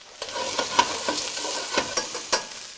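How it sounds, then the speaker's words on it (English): Chopped green pepper, onion and celery sauté in a pan with a continuous near sizzle, broken by regular scraping strokes from stirring. "we're going to saute this for a couple minutes just to get a little browning on it"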